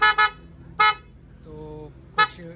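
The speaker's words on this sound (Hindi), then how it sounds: "तो आप हॉर्न का साउंड सुनिए" Windtone trumpet horn fitted to a Bajaj Dominar 400 motorbike, three short bright blasts, two in quick succession then a pause and a third, loud and near over a low idle hum.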